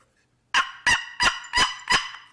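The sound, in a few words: turkey call imitating a turkey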